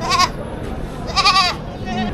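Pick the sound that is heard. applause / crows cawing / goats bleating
goats bleating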